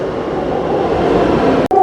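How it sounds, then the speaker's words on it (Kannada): Metro train at Magadi Road station in Bengaluru, a steady loud rushing rumble that holds evenly for under two seconds before a brief sharp dropout near the end. "1 minute ಉಂಟು ರೀ ಟ್ರೈನ್ ಬರಲಿಕ್ಕೆ."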